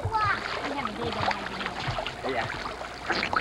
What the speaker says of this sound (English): Every time you kick your feet, you're throwing water in his face.